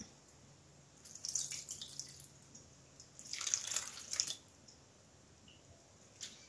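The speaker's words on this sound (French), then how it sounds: "Maintenant, on va rajouter 50 centilitres de lait." Milk poured into an apple milkshake mixture, heard as two wet splashing pours with dripping, each about a second long and moderately close, set against a quiet background.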